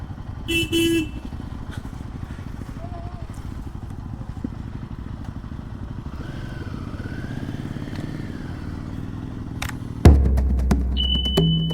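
Motorcycle engines rumble steadily up close as bikes arrive and park at Bhimashankar temple in Maharashtra, with a few short horn toots and clatter, ending in a louder burst of engine noise.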